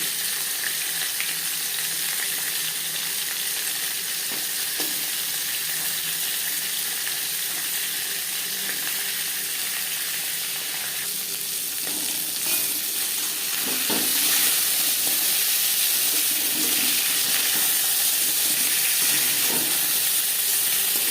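Bhetki fish bones and head fry in hot refined oil, producing a loud, steady sizzle that stays close and continuous, with occasional crackles and a slight rise in intensity partway through.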